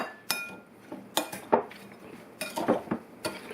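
A metal spoon works through pitted cherries and sugar in a bowl, producing a series of sharp clinks and scrapes in irregular bursts, fairly close and fairly quiet.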